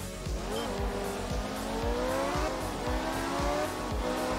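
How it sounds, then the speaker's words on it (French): A Lancia Stratos rally car in the video game Art of Rally on a night stage, its engine revving through repeated gear changes, with rising and falling pitch and a steady loud drone. "Alors attention, verdict du bruit de la Stratos."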